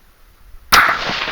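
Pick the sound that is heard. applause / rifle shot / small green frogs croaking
rifle shot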